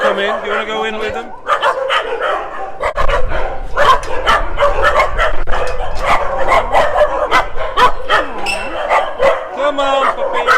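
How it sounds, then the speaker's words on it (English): A pack of small shelter dogs in a Phuket dog run barks and yips loudly and constantly, sharp overlapping barks mixed with whines, as people speak over them nearby. "this is the small dog run."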